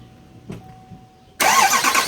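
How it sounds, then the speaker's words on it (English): A Chevy or GMC diesel pickup truck cranks and fires on the first try after a fuel filter change. A faint tone and soft clicks come first, then the engine catches suddenly and settles into a loud, rough rattling idle. "actually let's start the truck."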